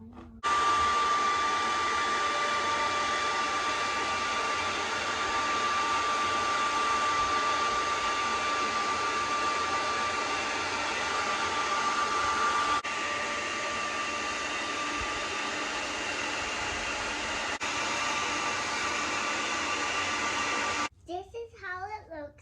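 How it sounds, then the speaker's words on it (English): Hot air from a heat tool blows onto crayons to melt them for a kids' craft, a loud, steady whooshing drone that runs almost unbroken before cutting off abruptly near the end. "Once we apply heat to the crayons, we're going to see how they start melting."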